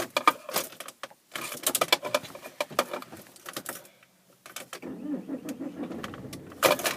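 A car engine starting up close by, preceded by clunks and key rattles, then a brief crank and a settled idle rumble, with no talking.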